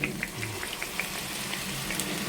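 Liquid seasoning hits hot cooking oil in a pan for sitaw with sotanghon, giving a steady, fairly quiet crackling sizzle with scattered pops throughout.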